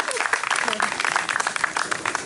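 A crowd applauds steadily throughout at Miami's 121st birthday celebration, dense clapping filling the space with some voices mixed in.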